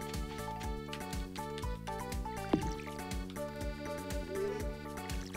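Watering plants in the farming game Stardew Valley, soft trickling and dripping water effects over steady background game music, faint with no talk.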